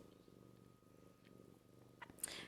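A pet cat purrs softly and steadily at close range in a quiet indoor room, with a brief rustle and small bump near the end.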